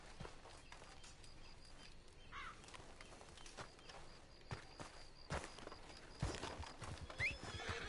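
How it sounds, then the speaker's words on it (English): A horse whinnies, rising shrilly, with hoof clip-clops and footsteps around it in Red Dead Redemption 2 Online, followed later by another brief whinny amid clattering hooves. "Get over here, horse."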